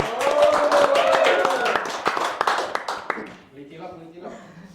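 Brief round of clapping from a small group at an Indonesian information session on a BPJamsostek job-loss benefit, a few seconds of close, scattered claps with voices mixed in before trailing off into talk.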